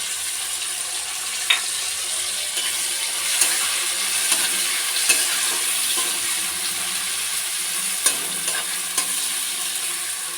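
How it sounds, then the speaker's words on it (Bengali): Spice masala is stir-fried in a pan, giving a continuous hiss of frying broken by sharp clinks and scrapes of a spoon against the pan every second or two. Nobody speaks. "মশলাটা কষছি।"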